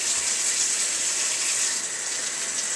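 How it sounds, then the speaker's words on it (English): Vegetables being washed under running water in a kitchen, a steady close gush from the tap with no pauses and no talk. "always wash those vegetables before you cut into them"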